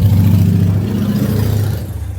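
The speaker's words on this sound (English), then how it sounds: "You hear the motorcycle in the background" A motorcycle engine rumbles loudly nearby with a low, throbbing drone that fades slightly toward the end as it passes.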